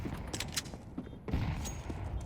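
MP9 submachine gun firing in a Counter-Strike match, quick scattered bursts of shots at low level, with a denser burst toward the end.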